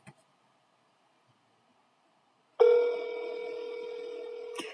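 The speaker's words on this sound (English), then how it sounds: "state your name after the tone, and Google Voice will try to connect you" A Google Voice call prompt tone on a phone: after near silence, a single steady electronic beep starts abruptly and holds for about two seconds, clear and close, with no talking.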